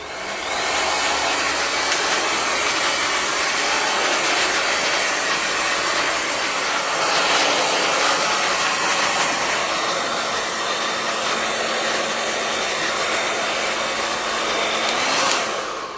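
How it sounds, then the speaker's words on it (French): A hair dryer set to medium, not too hot, blows in a steady loud rushing whoosh for the whole stretch, close by, with a faint tonal whine underneath and no talk. "Donc on essaye de mettre le sèche-cheveux sur une position moyenne, pas trop chaud"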